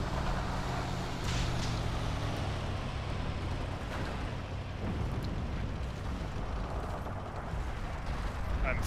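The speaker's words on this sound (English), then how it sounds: "I can actually hear the tanks closing in" Tanks closing in during a Seelow Heights battle in the WWII video game Forgotten Hope 2: a constant heavy rumble of engines and tracks with distant booms and mechanical clatter, loud and unbroken throughout.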